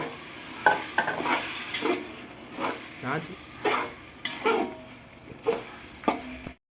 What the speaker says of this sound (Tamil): தக்காளி வந்து நல்லா வந்துட்டு ஃப்ரை ஆகிட்டு இருக்கு